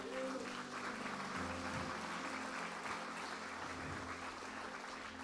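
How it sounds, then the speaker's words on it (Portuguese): A church congregation applauds God during a sermon, a dense, steady wash of clapping that fills the whole stretch, with low sustained instrumental tones humming underneath. "Quem aplaude a Deus aqui?"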